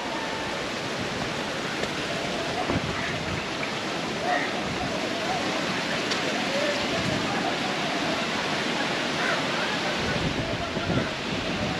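Thiruparappu Waterfalls in Kanniyakumari, Tamil Nadu, heard from behind the falls: a broad, steady rush of water, loud and unbroken, with a constant hiss that never lets up.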